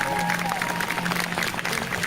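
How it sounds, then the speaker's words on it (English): Short burst of audience applause at a live fan show, mixed with crowd noise and a voice talking over it. "give them a round of applause"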